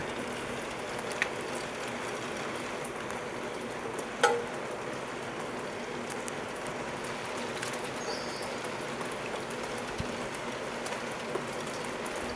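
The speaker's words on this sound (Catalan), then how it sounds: "Està plovent." Rain falling during lockdown in Igualada, a steady soft patter with faint scattered drops and one brief knock, with no talk over it.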